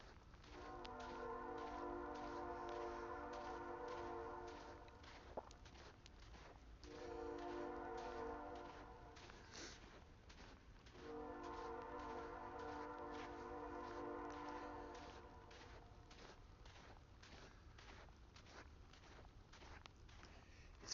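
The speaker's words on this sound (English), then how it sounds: "And you could hear the train in the background." A distant train horn sounds three long, faint blasts during a snow blizzard on a quiet street, with soft footsteps in the snow in between.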